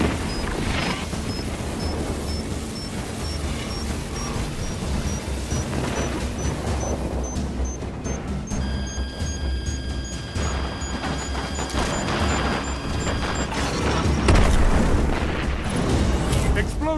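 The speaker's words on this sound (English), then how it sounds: "Explosions can be so" Heavy booming explosions and deep rumbling fill a dense, continuous battle din in the video game Destiny 2 PvP, with a few louder blasts standing out near the end.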